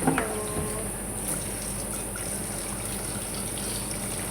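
Water gushing steadily into a cooking pan while making adobong saluyot with garlic and chili, a loud continuous pour with a brief splash at the start and no speech over it.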